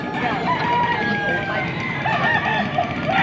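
Brown head sweater gamefowl rooster crows loudly and close, with a few clucks, over light background chatter.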